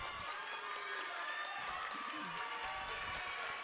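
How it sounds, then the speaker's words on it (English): A home crowd at a girls' high school basketball game cheers on its team's defense, a steady, dense roar of voices that fills the whole stretch, heard from within the gym. "you can hear the crowd from the Blue Jays cheering on this Blue Jay hometown defense"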